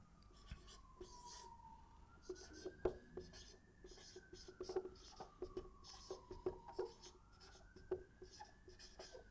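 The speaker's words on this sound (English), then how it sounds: "Let us write down the proper definition." Chalk or pen writing out a definition on a board during a lecture, faint scratchy strokes in an irregular rhythm, with a distant siren rising and falling in the background.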